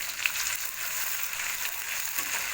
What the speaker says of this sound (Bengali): পেঁয়াজটাকে একটু নাড়াচাড়া করে নিচ্ছি আমি।